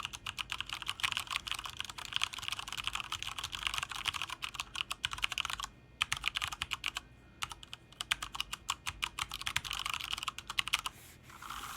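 Rapid typing on a FNATIC Mini Streak mechanical keyboard, with dense clacking keystrokes in quick bursts, a brief pause or two, and the keys heard close and alone.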